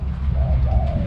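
Spotted dove gives deep, low cooing calls close by, a soft throaty rolling coo heard alone against faint background.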